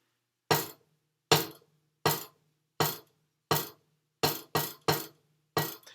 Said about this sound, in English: you're getting that nice, long legato stroke sound